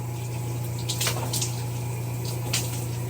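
Water streams steadily over a person's head, a constant close rush with brief splashy surges, no talking over it.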